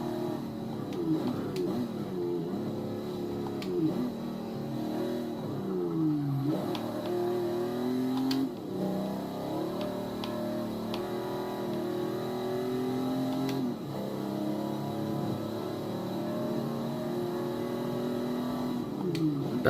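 A Holden FX ute engine with a 4-speed gearbox revs hard, climbing and dropping in pitch through repeated gear changes, steady and close throughout.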